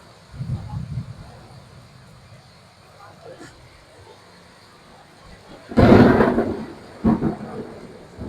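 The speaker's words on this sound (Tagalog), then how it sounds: "naririnig nyo, sobrang lakas ng kulog kidlat" A deep crack and rumble of thunder bursts out over steady heavy rain, with a second smaller boom following; a voice speaks faintly beforehand.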